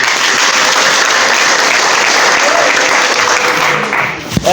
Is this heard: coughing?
no